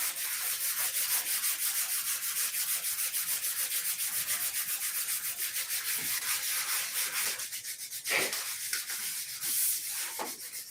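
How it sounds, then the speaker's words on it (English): A wooden piece sanded by hand with fine sandpaper, with a rapid, steady back-and-forth rubbing that runs continuously, close and even, and becomes slightly more irregular toward the end. "Every time I sand this, It's gone."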